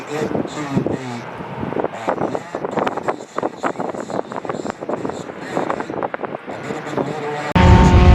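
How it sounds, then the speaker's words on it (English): Vintage race cars racing at Canadian Tire Motorsport Park, with engines roaring past in repeated loud surges under steady wind noise and people talking nearby. "These cars that are racing right now, they're pretty cool."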